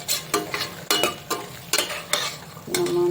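Vegetables for pulao sautéing in a pan, with a steady sizzle broken by repeated scraping stirs at a loose rhythm, close and fairly loud, no voices.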